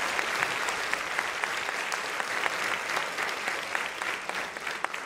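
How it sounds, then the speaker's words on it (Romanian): Audience applauding performers at a national folklore festival, a short burst of steady clapping from a crowd with a few sharper individual claps standing out. "Încă un rând de aplauze pentru ei."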